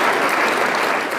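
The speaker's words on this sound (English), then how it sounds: "Everybody, big round of applause for Idris Elba." Dense, loud audience applause for actor Idris Elba at a live show, a short continuous burst of many hands clapping at once.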